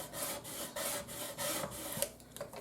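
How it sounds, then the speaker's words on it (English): Small scraper tool rubbed firmly over vinyl on a Brother ScanNCut project, quick repeated rasping strokes close up, fairly soft, several back-and-forth passes with no talk. "Take a little scraper tool and give that a really good rub."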